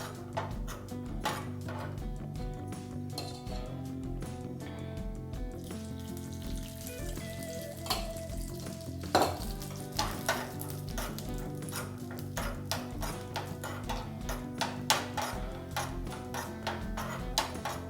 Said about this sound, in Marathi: काजू बदाम हे छान परतले गेले